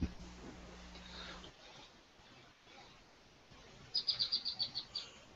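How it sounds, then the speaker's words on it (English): Pet birds kept indoors chirp in a quick run of bright, faint calls near the end, following a quiet stretch of low room noise. "Well, my birds are sounding off."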